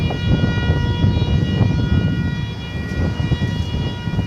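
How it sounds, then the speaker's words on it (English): A steady, siren-like whine from a UPS cargo hub near DFW airport at night drifts over a low rumbling background. It holds thin sustained tones without clear rises or falls. "I have no idea what that siren-like noise is that you hear. It's coming from the UPS cargo hub to the south of us"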